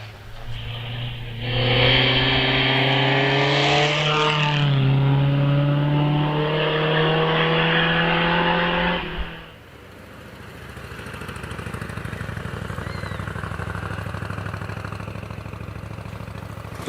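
Vintage sports car accelerating at the Prescott Hill Climb: a loud, close engine climbs in pitch through several revs for about eight seconds, then cuts off abruptly, leaving a softer, more distant engine drone.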